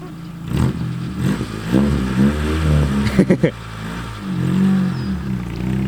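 A car engine revs and accelerates as another person drives it, a mid-pitched motor rising and falling over a few seconds with some clattering bursts, fairly close by.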